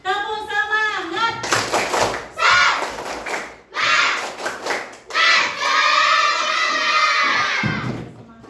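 Children in a fourth-grade classroom doing a rhythmic spirit clap, loud patterned claps mixed with chanted voices and shouting, filling the room in quick bursts.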